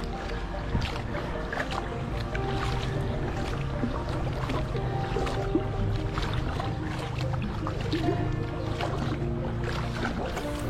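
Boat paddled by arm power against a strong January current on the Savières canal, with steady water churn and wind noise running continuously at moderate, even loudness.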